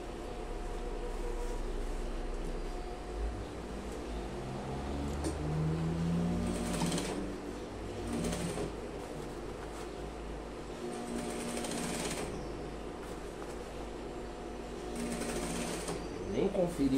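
A sewing machine stitches a trouser leg with a continuous low mechanical hum and rattle that runs throughout, while someone talks over it intermittently.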